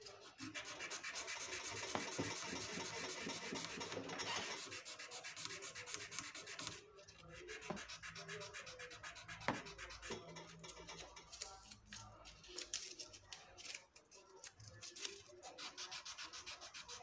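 Sandpaper rubbed by hand over the body of a BC Rich Warlock bass guitar, likely with fine 600-grit paper, making a steady, close, dense scratchy rasp of continuous back-and-forth strokes with no talking.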